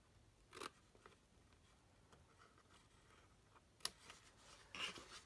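Scissors cut down the sides of a chocolate bar wrapper during a snowman craft project, giving a few faint snips and crinkles separated by quiet pauses, with a sharper cut near the end.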